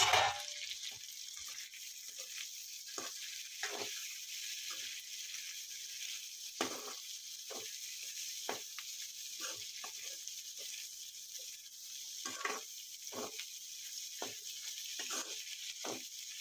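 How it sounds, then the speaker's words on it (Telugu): Fried okra and potato pieces being stirred together in a pan for an Andhra-style aloo bhindi fry, giving a soft continuous sizzle with scattered scraping and clinking of the spoon, steady and fairly quiet. "ఇప్పుడు మనం ముందుగా ఫ్రై చేసి పెట్టుకున్న బెండకాయ ముక్కలు, బంగాళదుంప ముక్కలు వేసేసి బాగా మిక్స్ చేసుకోవాలి"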